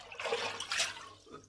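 Tap water runs briefly to wet a shaving brush, a soft, short splashing gush with no talking.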